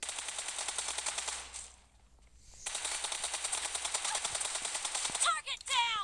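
Automatic gunfire in PUBG Mobile rattles in rapid, evenly spaced bursts, a long loud stream broken by a brief pause, then resuming until a few final shots and clicks.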